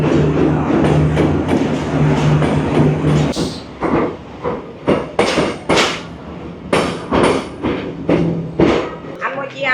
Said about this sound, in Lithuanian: Prasideda mūsų kelionė iš Hue į Hanojų su traukiniu, kuris važiuos 16 valandų kažkur.